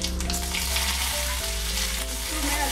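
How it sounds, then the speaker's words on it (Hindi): Dried red chillies, mustard seeds, whole cumin and curry leaves sizzle and crackle in hot oil, a steady close frying hiss with a faint low hum beneath it. "अभी जो मैं मसाला इधर तड़का फ्राई किया, ये फ्राई हो गया"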